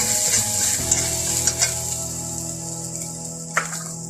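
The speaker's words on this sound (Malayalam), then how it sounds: "തേങ്ങ ഇട്ട് എല്ലാം വറക്കും" Grated coconut and chilli leaves fry in a pan tempered with mustard seeds, giving a steady close sizzle with a few brief stirring scrapes and no voices.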